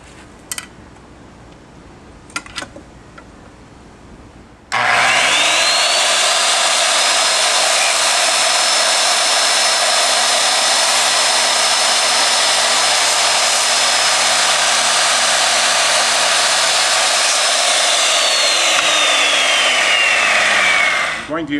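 A few light clicks and knocks come first, then a power saw starts cutting plywood for a sacrificial base, with a loud, sustained, high-pitched whine that runs unbroken for about sixteen seconds before trailing off.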